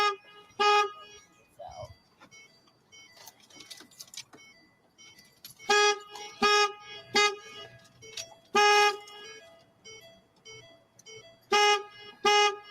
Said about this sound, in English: I don't know why it won't stop beeping.